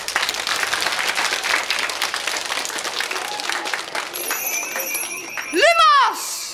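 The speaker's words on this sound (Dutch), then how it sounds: "Applaus!" Audience applause fills a hall at a children's costume performance, a steady dense patter of clapping that fades near the end as a tonal electronic whistle and a sweeping sound take over.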